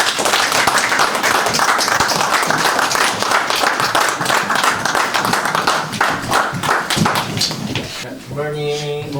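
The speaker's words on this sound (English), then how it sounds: "Let's give a round of applause for the missionaries." A church congregation applauds the missionaries at the opening of a peace and purpose centre, loud dense clapping sustained for about eight seconds, then fading as a voice begins speaking at the end.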